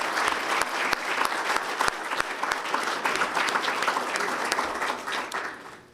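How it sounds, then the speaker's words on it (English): An audience at a Chamber of Commerce and Industry awards gala applauds steadily, a full, dense clapping with a few sharper individual claps standing out near the start, tapering off toward the end. "We have a round of applause for the previous awardees?"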